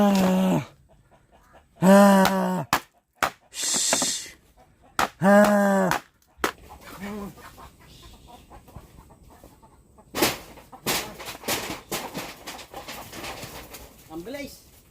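Chickens at a poultry house clucking: loud, near bursts of harmonic clucks and calls, followed by rustling, scuffling movement and intermittent softer clucks.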